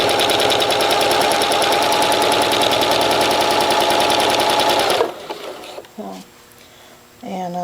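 Janome Skyline S5 high-shank sewing machine doing free motion stitching, running in a loud, steady rapid stitch for about five seconds, then stopping into quieter handling noises and brief clatter.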